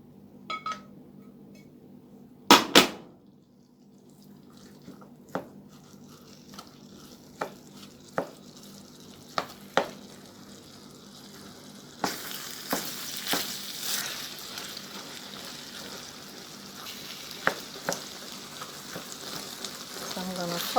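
Ground beef meat sauce for beef lasagna fries in a pan, a soft continuous sizzle broken by sharp clicks and clatters of utensils, building into louder sizzling in the later half.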